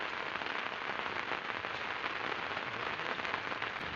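Steady rain pattering on surfaces at an outdoor fishing spot in West Java, a dense continuous hiss of drops with no pauses and no voices.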